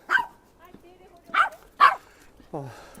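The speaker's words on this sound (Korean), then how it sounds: "개가 짖고 있습니다." A dog in a Hong Sang-soo film scene barks several times in short, sharp yelps spaced about half a second apart, close and clear, ending in a lower drawn-out whine.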